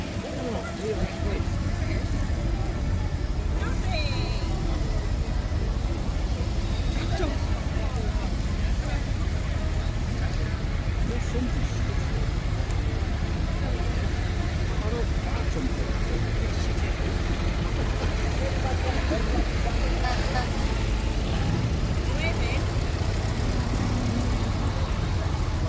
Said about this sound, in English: So we're going to get the tractors in